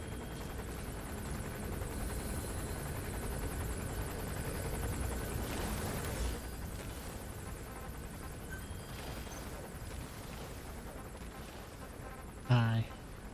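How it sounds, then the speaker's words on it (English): A support helicopter arriving at Mother Base in the video game Metal Gear Solid V gives a steady low rotor rumble throughout, with game sounds and voices over it and a brief louder effect near the end. "Support helicopter."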